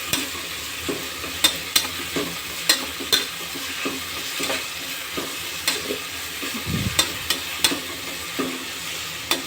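Onions sauté with salt in a pan for beef curry. A soft sizzle sits under regular, distinct clacks of a spatula scraping and tapping the pan, repeating roughly every half second. No voices.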